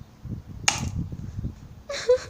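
An airsoft gun fires at a target as the shooter tries to empty the magazine, giving a sharp snapping shot near the start and a second cluster of snaps and ringing impact about a second later, over a low background rumble.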